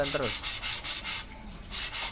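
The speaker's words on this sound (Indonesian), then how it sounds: "Ini kita amplas nih bagian blok." Sandpaper rubs by hand across the engine block of a Honda Vario Techno scooter in steady back-and-forth strokes, close and clear, about eight rasping passes with short pauses between them.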